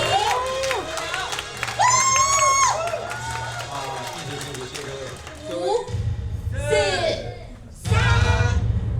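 A crowd at the STARLUX Airlines A350 inaugural flight celebration from Taipei to Ontario cheers and shouts excitedly, with bursts of loud collective whooping that swell near the end amid a dense, lively background of voices.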